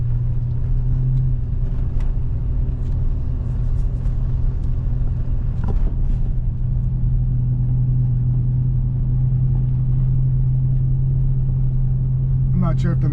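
Toyota Prado 90 Land Cruiser engine giving a steady, deep, continuous rumble, heard close and loud throughout.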